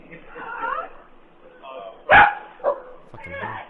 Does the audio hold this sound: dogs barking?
yes